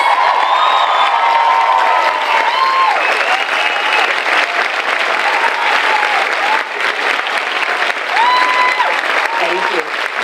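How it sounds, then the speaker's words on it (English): A large audience at a 2023 girls' school graduation ceremony applauds loudly and steadily, with some cheering and whoops mixed in across the whole stretch. "Please give them another round of applause."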